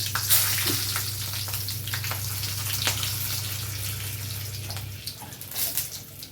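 Five dried red chillies frying in oil for hotel-style kara chutney, a steady close sizzle with scattered pops and crackles, and a low hum underneath for most of the stretch.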